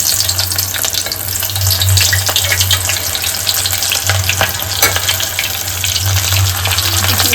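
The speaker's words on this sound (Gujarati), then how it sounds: "આપણે હવે ગોટીને તળી લઈએ." Dough balls fried in hot oil for a Gujarati undhiyu meal give a loud, steady sizzle and crackle with bubbling bursts, close up and continuous, with no voices.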